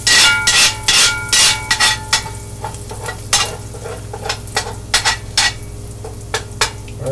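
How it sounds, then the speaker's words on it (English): Cooked sausages scraped across a frying pan with a utensil, a run of sharp scraping strokes, loud and close, over a steady low sizzle, irregular in rhythm and thinning toward the end. "we're just going to scrape them to one side of the pan"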